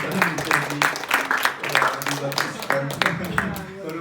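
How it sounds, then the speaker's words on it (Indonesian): A church congregation claps for a newly baptised person, a ragged run of hand claps going on beneath someone speaking over it. "Boleh kita tepuk tangan untuk Rasenska yang hari ini baru menjadi"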